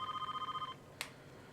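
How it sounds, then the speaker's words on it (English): A telephone rings in the Voyeur video game on Philips CD-i, with a rapid trilling electronic bell pulsing for under a second, then cutting off before a short click in a quiet room. "Should we answer the phone?"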